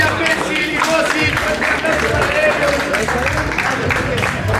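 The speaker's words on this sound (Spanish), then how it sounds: "le damos un fuerte aplauso a los tres primeros lugares de hoy" A crowd at a live freestyle rap battle league event applauds the top three finishers, a steady wash of clapping and cheering held at even loudness throughout, with low rumble underneath.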